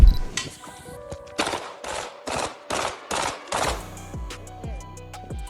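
Gunshots ring out in an exchange of fire during a live stream, with a rapid volley of about six loud, sharp cracks followed by quieter scattered pops and echoes.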